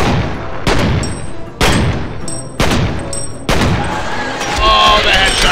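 Gunfire in the shooter game F.E.A.R.: four loud, sharp volleys strike about a second apart, each ringing out briefly before the next, with a denser, continuous burst of shots toward the end.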